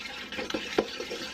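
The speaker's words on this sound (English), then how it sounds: "Alright, I'm gonna mix this together." Thawed meat being stirred and mixed together with cheese in a bowl, soft wet squelching and scraping strokes at close range, with no talking.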